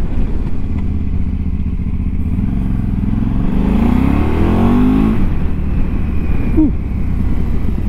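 A motorcycle rides along a countryside road near Shoreham Airport, with a steady engine drone and wind rush, a brief rising rev in the middle, and a faint clatter near the end.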